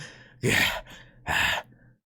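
Two sharp, breathy gasps from a single voice, close and fairly loud, each a short rushed intake separated by a brief pause, with nothing else around them.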